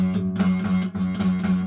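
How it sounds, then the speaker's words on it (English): Acoustic guitar strings strummed steadily, slightly out of tune, with a warm ringing tone sustained throughout and a brief dip midway. "Because it's an acoustic guitar."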